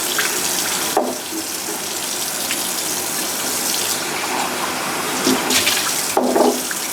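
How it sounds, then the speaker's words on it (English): Tap water runs and splashes into a mason jar being rinsed of leftover buttermilk, a steady hissing gush close by with a few sharper splashes as the jar shifts under the stream. "you want to rinse your container pretty good"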